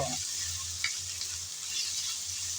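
Small sea shrimp frying with onion in hot oil, a steady close sizzle with a few soft stirring scrapes, alone without talk.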